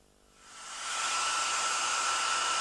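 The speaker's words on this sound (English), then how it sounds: "Jenny, is that my hairdryer you're using?" A hair dryer switches on and ramps up within a second into a steady, loud airy whoosh with a bright whine, running continuously alone.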